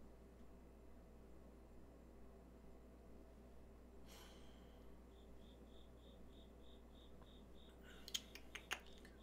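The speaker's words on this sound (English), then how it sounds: "Our cicada friend is back." A cicada buzzes outdoors in faint, evenly spaced pulses over a quiet, steady background hum, with a few soft clicks near the end.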